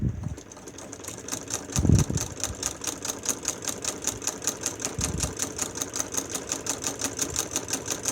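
Restored vintage sewing machine running a stitch, a fast, even rhythmic clatter of needle strokes close up, with a couple of low thumps near the start and no speech.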